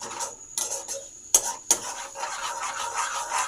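Food being stirred with a metal spoon in a cooking pot after cheese is added, with repeated scraping clinks, two sharp knocks against the rim and a faint sizzle beneath, close and clear.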